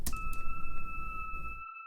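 An eerie synth pad from Analog Lab V holds two steady sustained tones over a soft noisy wash, cutting off abruptly before the end.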